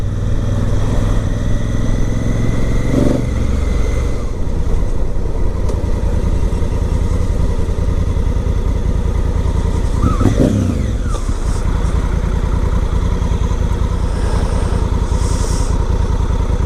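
A 2017 Honda Africa Twin motorcycle on a daily commute, its engine droning loudly and steadily with wind rush throughout and a couple of brief revs as it rides along.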